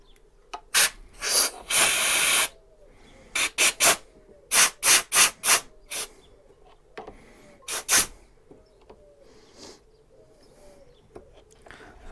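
Compressed air blasts in short, loud hissing bursts to push the pistons out of a Honda CB750 brake caliper, a cluster of quick spurts and a couple of longer ones, close up with quiet gaps between.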